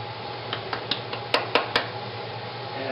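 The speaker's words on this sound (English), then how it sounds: "And we're just going to stir that around in the dry pan." Cumin, pickling spices and kosher salt are stirred and toasted in a dry pan, heard as a run of light metallic scrapes and taps, about seven in quick succession, over a low steady hum.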